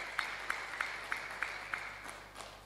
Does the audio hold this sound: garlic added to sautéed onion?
no